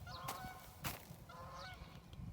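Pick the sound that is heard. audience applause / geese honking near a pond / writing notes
geese honking near a pond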